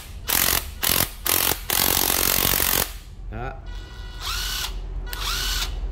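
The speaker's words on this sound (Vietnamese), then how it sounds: "cái này là khoan ha" A Japanese cordless drill runs in drill mode, first in several loud stuttering bursts, then in a longer continuous run, followed by softer motor whines that spin up and down while someone talks.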